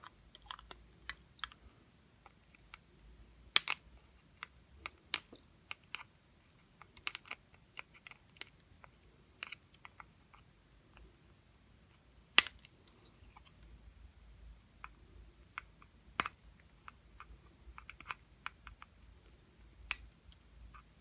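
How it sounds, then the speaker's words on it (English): Small cutters snipping component leads off an LM317 kit circuit board, a sparse run of sharp, quiet clicks at irregular intervals with a few louder snaps and near silence between. "Right, snip all those leads off."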